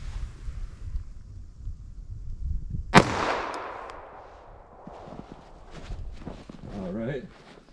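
A single sharp gunshot from a .45 ACP pistol with a 5.3 inch barrel, firing PPU Defense Line ammunition at a ballistic test target outdoors, cracks loudly once and rolls off into a fading echo, with talk and footsteps around it.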